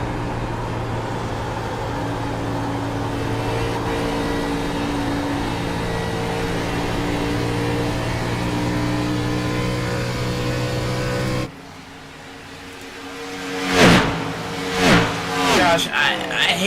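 A race car engine drones onboard in iRacing on the Auto Club oval, a loud, steady hum held for about eleven seconds before it cuts away to quieter engine noise under commentators' voices.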